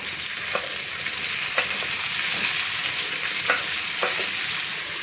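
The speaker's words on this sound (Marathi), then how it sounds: "गॅस मोठा करायचा आणि भेंडी परतून घ्यायची." Okra stir-fries over a high flame in hot oil with cumin, asafoetida and curry leaves, giving a constant loud sizzle with a few sharp spatula scrapes at intervals, close up and without speech.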